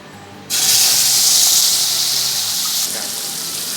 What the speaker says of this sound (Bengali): এবার আমি এটা এই কড়াইতে অ্যাড করে দেবো